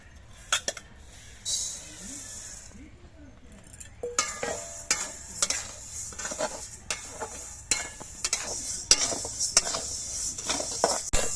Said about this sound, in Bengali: প্রথমেই আমি মুগের ডালকে ভালো করে ভেজে নিচ্ছি